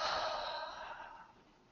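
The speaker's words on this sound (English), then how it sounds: "And then breathe out." A person lets out one deep, breathy exhale during a mindfulness breathing exercise, close and soft, fading away over about a second and a half.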